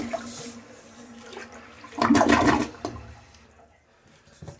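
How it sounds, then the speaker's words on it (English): A household toilet is flushed after a bucket of water is poured into the bowl during a replacement job, giving a loud rushing surge that peaks and then trails off into gurgling refill water. "And then flush it"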